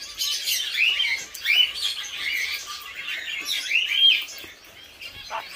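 A family of black-cheeked finches chirps in steady, overlapping high tweets and short calls, fairly close and continuous, with no voices.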